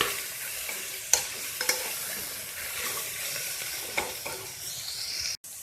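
Carrots and beans sauté in a hot pan for vegetable pulav, giving a steady sizzle with a few sharp clinks of a spoon against the pan.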